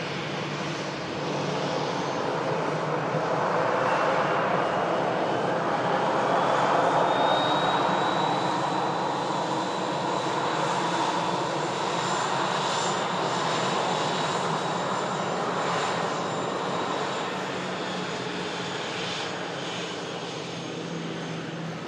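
An easyJet airliner arriving from Venice roars past at Manchester Airport, its jet engines a broad sustained rumble and whine that swells and slowly fades over about twenty seconds, heard from a distance with no talking.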